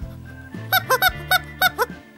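A squeaking rubber meme chicken toy squeezed six times in quick succession, each squeeze giving a loud, nasal, honking squeal over a low wheeze of air, close and alone.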